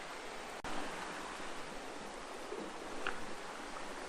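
Lyre River water flowing steadily over river rock beside rainforest, a broad, constant rushing wash with a brief sharp tap near the start, no talking.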